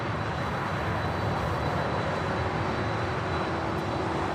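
An Atlas Air freight jet taxiing along a taxiway at LAX, giving a steady, close, broadband engine roar with a faint high whine that holds evenly throughout.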